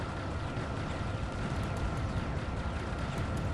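Dense, continuous booming and crackling bursts fill the whole stretch, loud and constant, like a barrage of fireworks going off with no talking, in the video game Mars Invader.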